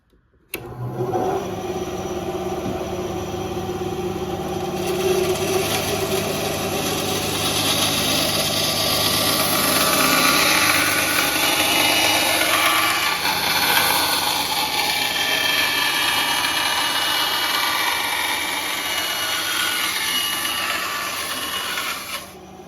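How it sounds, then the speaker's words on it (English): A bandsaw in a home garage cuts a Kydex holster blank, its motor and blade giving a steady, loud whirring rasp that runs continuously for over twenty seconds before cutting off. "let's head on up to the garage and get this cut out on the bandsaw"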